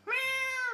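A single drawn-out cat meow, loud and close, rising then holding steady before trailing off, with no other sound around it.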